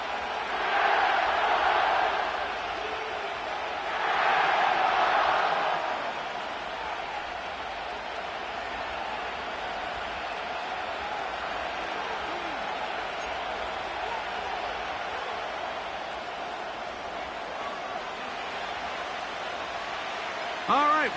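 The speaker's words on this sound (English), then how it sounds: "The crowd is definitely ready." A large virtual stadium crowd at SoFi Stadium in Inglewood, in an EA Sports NFL football game, roars in two swells and then settles into a constant distant murmur throughout.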